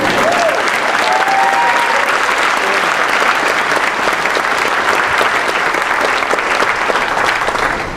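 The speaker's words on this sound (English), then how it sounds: "We'll just cheer for her." An audience claps and cheers steadily for an award recipient at a 2019 environmental commencement ceremony, dense applause that stays loud and even throughout.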